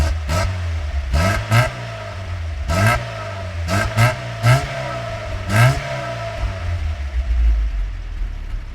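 A Lada 2103 engine is given repeated short blips of throttle, each rev rising and falling in quick bursts over a steady idle, loud and close, with a rougher clattering rev near the end.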